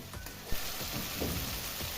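Masala spices frying with a little water in a pan for chicken jhol, giving a steady soft sizzle and bubbling hiss at low level, with a faint clink near the start.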